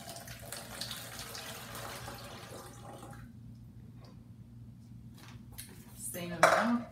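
Liquid pours through a funnel into a container, a continuous splashing trickle that tapers off, then a short clink of glass or plastic near the end, close and moderately quiet.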